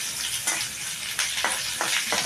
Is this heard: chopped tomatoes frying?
yes